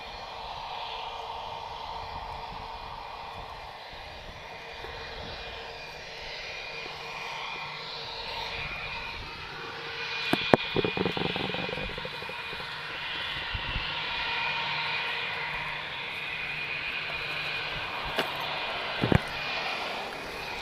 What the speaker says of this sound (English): It's BA501, he's off to London Heathrow, and it's an A319.